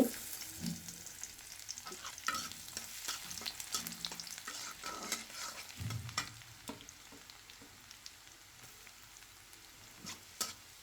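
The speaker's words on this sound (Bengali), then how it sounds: "এই যে তেল দিয়ে শুকনো মরিচ ছিঁড়ে দিয়ে দিচ্ছি" Dried red chillies torn into hot oil fry with a soft, steady sizzle, while a spoon scrapes and clatters against the pan in irregular bursts, close and fairly quiet, with no voices.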